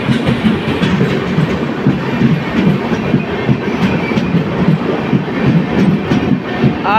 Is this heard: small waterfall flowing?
no